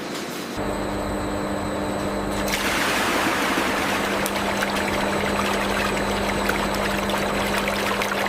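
Pressurized water sprays steadily in a soap manufacturing line, a continuous loud hiss and rush over a low mechanical hum, with the spray widening and growing brighter after a short start.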